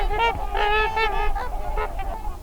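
Loud, nasal honking calls of a swan repeat in a quick irregular series of about half a dozen harsh trumpeting notes, close and alone without speech.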